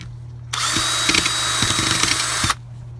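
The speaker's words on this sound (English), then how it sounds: "I'm going to take a wire wheel and I'm going to scuff up the leading edge on the PVC on both ends." Power drill fitted with a wire wheel scuffing the edge of a PVC pipe for a sub bass tube: one loud, close two-second whir with gritty rasping contact, starting and stopping abruptly, no talk.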